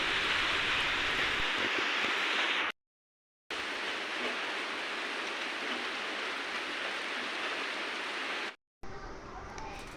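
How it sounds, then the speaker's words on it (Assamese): Heavy rain pours down in a dense, steady hiss that is broken by two brief silent cuts before it resumes. "বতৰটো বেয়া, বৰষুণ ঢালি আছে।"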